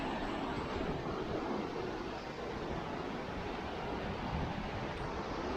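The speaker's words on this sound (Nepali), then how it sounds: "दिस इज रेखोला अनि खोला पनि बढेको" The swollen Rey Khola river rushes past in a steady, even broadband roar, constant and fairly soft, with no voices over it.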